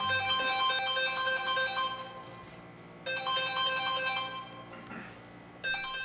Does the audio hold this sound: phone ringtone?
yes